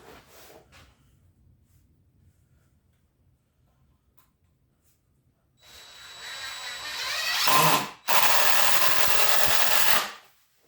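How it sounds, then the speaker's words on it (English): After a quiet stretch, a power drill whirs loudly in two bursts, the motor straining briefly between them as a screw drives into 2x4 wood. "Drilling an extra screw into both of these"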